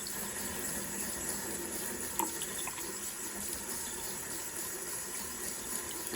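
Tap water runs steadily over a paintbrush as acrylic paint is rinsed out, a constant close hiss and splash with a few small clinks, no talking.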